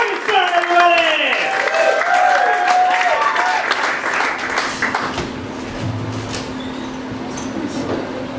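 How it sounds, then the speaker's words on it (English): Applause from a comedy club audience welcoming a stand-up comedian, loud clapping with voices and whoops at first, then thinning and fading into a lower room murmur with a faint hum. "Give me some applause for this next guy."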